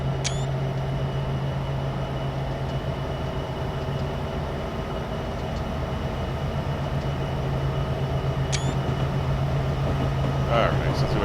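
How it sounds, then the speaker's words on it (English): A train rolls steadily past in Train Simulator 2016, a continuous rumbling drone with a low hum throughout and a few faint high squeaks, fairly loud and unbroken. "so we have a train coming by here"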